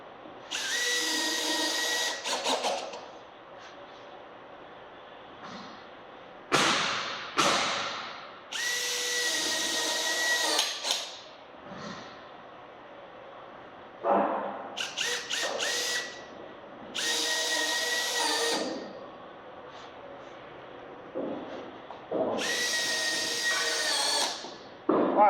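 A power drill drives screws into classic rib metal roofing on a Tuff Shed, whirring loudly in repeated bursts of a few seconds each, separated by short pauses and clanks, with no talking.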